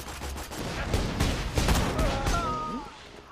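Borderlands 2 gunfire rattles in rapid, dense bursts of shots, loud and close, mixed with game effects and a brief tonal sweep near the end.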